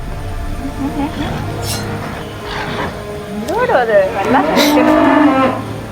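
Cattle mooing inside the Roblox horror game The Mimic, several drawn-out bellowing moos rising and falling toward the end, loud and close, with game background sounds underneath and some talk mixed in.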